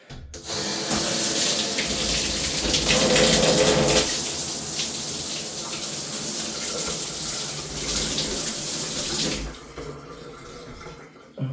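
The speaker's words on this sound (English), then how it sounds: "let's go ahead and turn on the water" Water sprays and splashes steadily from a Kohler multifunction handshower, a loud continuous hiss that stops abruptly near the end.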